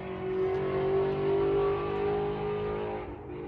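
A race car at Buttonwillow race track heard from a distance, its engine tone rising and holding steady as it accelerates during brake bedding, then fading slightly toward the end, with no voices.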